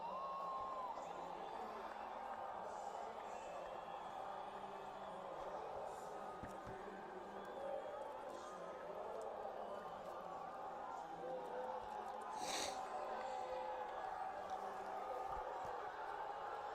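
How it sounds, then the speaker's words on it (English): A distant UFC arena crowd in Rio roars and cheers as a fighter walks out, a steady wash of noise with scattered whoops, heard faint and muffled under commentary talk. "Just gonna listen to this crowd for a second."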